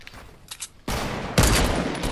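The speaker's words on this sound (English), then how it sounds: "we're getting shot at from northwest too" Gunfire from a shooter video game, with a few scattered shots followed by two sudden loud bursts of dense, sustained firing up close.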